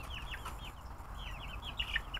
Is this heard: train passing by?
no